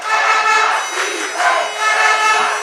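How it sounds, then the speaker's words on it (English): A Danish crowd at an under-19 European American football game between Austria and Denmark, cheering in a rhythmic, swelling chant that rises and falls several times. "the Danish crowd tries to cheer their players"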